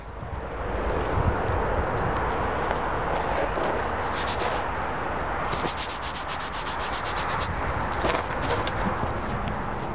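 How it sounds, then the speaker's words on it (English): Close, dry scratchy rubbing of a hand over rough, neglected car paint on a CLK 63 convertible, steady and gritty with bursts of rapid rasping strokes. "If you will listen, I'll put the microphone right to the paint and touch it"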